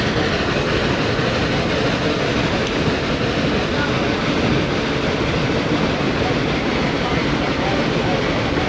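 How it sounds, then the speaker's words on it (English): A Cass Scenic Railroad train gets under way, giving off a loud, continuous rumble and rattle of the rail cars that fills the whole stretch without a break. "as we start out again, you might want to brace yourselves just in case the train gives a little bit of a jerk."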